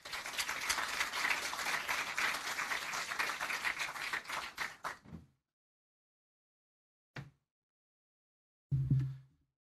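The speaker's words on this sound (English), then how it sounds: "Big round of applause for everyone" An audience at a startup demo day applauds with dense clapping that swells and then dies away, followed by silence and a couple of brief, isolated claps.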